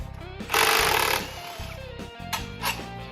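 Power tool, likely an impact wrench, loosening the primary and secondary clutch bolts on a Polaris RZR 900 side-by-side, with one loud sustained burst, then shorter whirring bursts and clanks, close up in a workshop.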